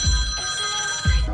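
A telephone rings in two short bursts of bright, trilling bell tone, fairly loud, with a warm low hum underneath.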